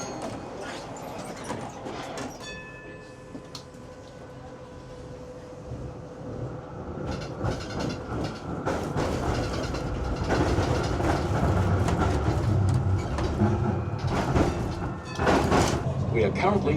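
A Melbourne route 59 tram arrives and runs, with doors sliding, a rising rumble and clatter of wheels on rails, close and growing louder, while a person talks over it.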